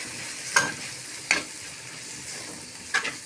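A spoon scrapes through sambar in a pan after lentil powder is added, three quick strokes spaced apart over a soft, steady sizzle.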